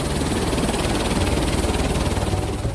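Helicopter heard from inside during a ride, a steady loud rotor and engine drone with rapid blade chop running throughout, no voices.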